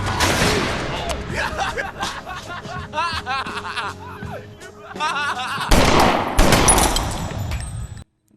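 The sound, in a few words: gunfire in the film Fight Club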